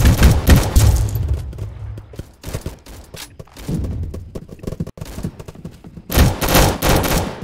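Mortar fire and explosions in the Roblox game Rolling Thunder: loud booming blasts and rapid gunfire bursts come in heavy waves with short lulls between, close and dense.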